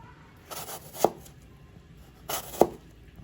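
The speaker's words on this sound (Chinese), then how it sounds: "现在我们把中间的果核切掉，剩下的苹果继续切成块" A knife cutting an apple into chunks for a recipe with astragalus, two crisp chops on a board about a second and a half apart, close and clear in a quiet room.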